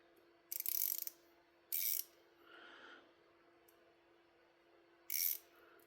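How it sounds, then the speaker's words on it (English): Small pivot screw on a Benchmade Barrage folding knife being tightened, giving three short, close, crisp ratcheting clicks spaced apart, plus a softer metallic rub, in a quiet room. "now I'm going to try to tighten it and see if I can't get that play out of there"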